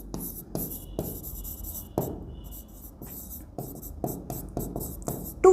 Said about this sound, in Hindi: तो बस हमें इसे ही लिखना है